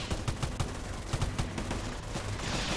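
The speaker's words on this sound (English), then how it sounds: "Let me run into the hail of gunfire." Rapid bursts of gunfire in the colony-building video game Rimworld, a steady crackle of repeated shots at moderate distance, fairly quiet and with no talking.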